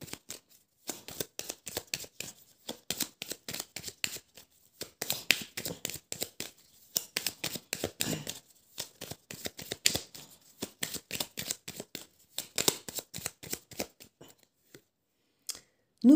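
Oracle cards being shuffled by hand, a long run of quick, crisp riffling flicks in uneven bursts with short pauses, close and fairly quiet.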